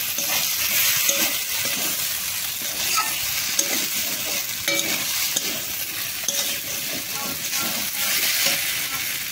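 Mustard pointed gourd (potol) curry with fried gourd pieces cooking over a low flame, giving a steady close sizzle and frying hiss with occasional soft stirring scrapes throughout.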